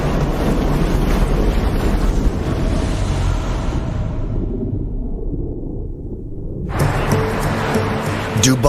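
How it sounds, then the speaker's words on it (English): Ferocious desert wind in Dubai roars across the microphone in heavy, continuous buffeting gusts, easing briefly before surging back loud and close. "they must also protect them from the ferocious desert wind"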